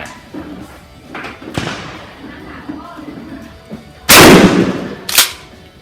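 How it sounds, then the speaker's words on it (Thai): Final shot from a Hatsan five-round shotgun loaded with a white-hulled shell, a sharp loud blast followed about a second later by a second bang, with a quieter thump earlier and faint background noise. "ยิงจบไปนะครับ ทั้งหมดก็หลายนัดอยู่นะตัวฮัสซัน"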